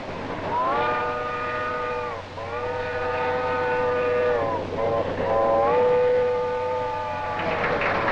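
A steam train whistle blows three long, harmonic-rich blasts over a steady low rumble of the train, loud and close, with no speech.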